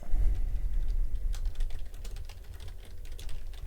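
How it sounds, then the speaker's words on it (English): Quick, irregular typing on a computer keyboard, light clicks close by over a low background hum, with no talking. "If you do hear typing, that's just me making alerts in the private community that I offer."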